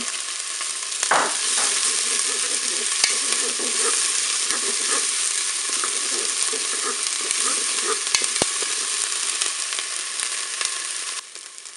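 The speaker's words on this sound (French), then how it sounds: "mon huile est chaude, je vais mettre mes morceaux d'oignon. On va les faire dorer." Onion pieces fry in hot oil in a Cookeo multicooker, a steady loud hiss and crackle after a brief stir at the start, close and continuous, with no talking.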